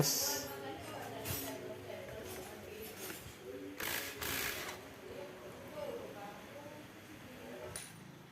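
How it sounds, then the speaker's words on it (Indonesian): A socket wrench loosens the clutch cover bolts on a Honda CRF150L motorcycle engine, giving short bursts of mechanical ratcheting and clicking. The bursts come up close amid workshop noise, with a person talking at times. "kita buka dulu baut rumah koplingnya pakai kunci sok 19"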